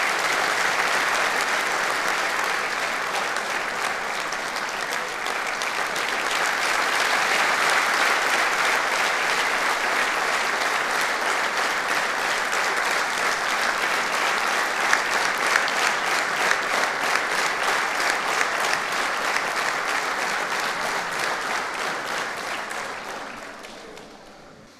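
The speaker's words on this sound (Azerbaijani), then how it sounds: "alqışlarınızla" An audience at a jubilee concert applauds continuously and loudly as a folk singer is welcomed onto the stage, a dense sustained clapping that fades at the end.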